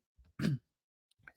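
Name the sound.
throat clearing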